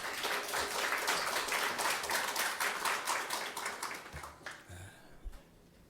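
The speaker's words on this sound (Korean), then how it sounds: "우리 하나님께 감사와 영광의 박수 올려드리겠습니다." A church congregation applauding during a worship service, a dense wash of many hands clapping together that thins out and fades after about four seconds, with a few faint sounds afterward.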